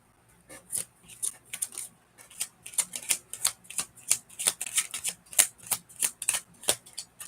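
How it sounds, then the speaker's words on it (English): A deck of playing cards is shuffled in a quick series of crisp riffling bursts, close and fairly quiet, with short pauses between the shuffles. "Yeah, you heard that shuffle."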